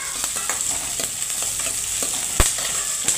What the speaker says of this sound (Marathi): असं एकदम चांगल्या भाजायच्या, बारीक गॅसवर भाजायच्या.